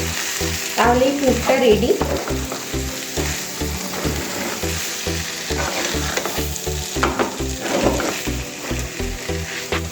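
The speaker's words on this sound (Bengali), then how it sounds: "এবার এখানে যে স্যালাডটা করেছিলাম ওইটা দিয়ে দেব। এটা দিয়ে একটু নেড়ে নেব," Chicken tikka roll filling and salad being stirred in a hot pan, with continuous sizzling and frying and rhythmic scraping of a spoon throughout, close by, while someone speaks briefly.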